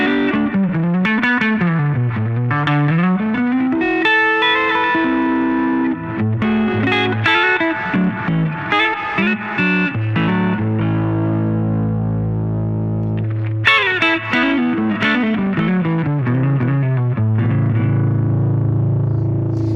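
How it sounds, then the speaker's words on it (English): Clean electric guitar through a Koch "The Greg" amp with a spacious reverb tail, playing chords and melodic runs continuously at a steady, moderate level with no talking. "So this is the clean sound with the reverb."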